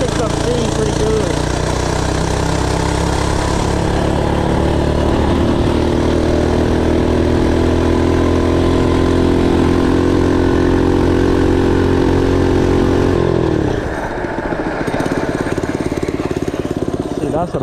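Small single-cylinder engine of an FRP GMB 100 retro mini bike running steadily and fairly loud, revving up and holding speed before cutting back sharply near the end, with a voice talking over it.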